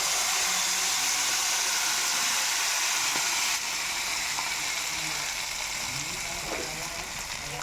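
Bajji fritters frying in a simmering gongura and toor dal curry, giving a steady, loud sizzling hiss close up, with a few faint clinks and stirring sounds.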